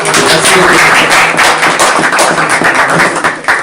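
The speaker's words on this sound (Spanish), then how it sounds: "así que como aplauso al editor" Guests at a book presentation applaud the editor with loud, dense clapping that stays up for several seconds close by, with no talk over it.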